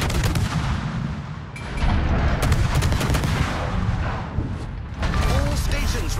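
Naval gunfire in a warship combat game, with dense, rumbling volleys of heavy cannon fire and rapid gun bursts rolling continuously at close range, while a voice speaks over the barrage.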